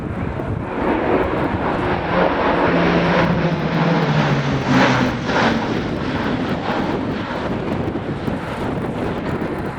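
An Airbus A400M military transport aircraft performing a flying display at RIAT 2016, a loud, sustained propeller and engine roar with a shifting pitch as it passes, mixed with wind noise.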